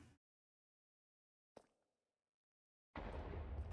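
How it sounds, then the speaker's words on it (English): A summoned mob explodes in the Minecraft video game, a short sharp pop followed by a sudden loud, sustained blast of broadband noise that fills the end of the clip. "Got to back up so his explosion doesn't absolutely demolish us."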